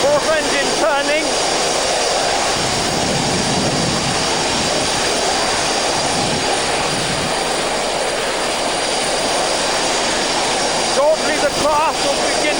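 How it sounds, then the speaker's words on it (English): SRN4 hovercraft at HMS Daedalus as its fourth engine starts and spins up, joining a loud, continuous turbine roar with whining tones rising at the start and again near the end. "Fourth engine turning."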